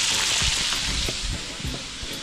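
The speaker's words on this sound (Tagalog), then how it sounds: "At si Kuya Labio, nagluluto ng isda." Fish fries in a pan with a dense, steady sizzle and scattered crackles and pops, heard close up with no voices.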